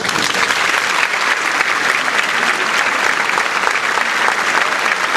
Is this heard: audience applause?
yes